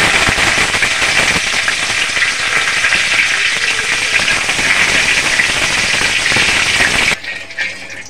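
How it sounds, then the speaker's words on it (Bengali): Curry leaves and black mustard seeds crackle and spit in hot oil as a tempering for poha upma, a loud, dense, continuous sizzle with popping that stops abruptly near the end. "কারি পাতা আর সর্ষেটা ভাজা হয়ে গেছে"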